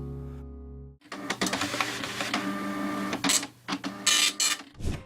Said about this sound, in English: The dot matrix printer.